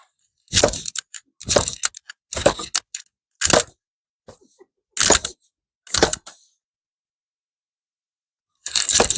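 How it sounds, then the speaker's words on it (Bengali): Sharp cracking and snapping as the hoof shell is pried off a cow's foot, in a series of close, loud separate bursts with short silent gaps between them. "আমি খুরের পাতাটা ছাড়াই নিছি"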